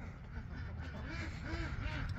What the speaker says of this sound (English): Time to get up, ducks.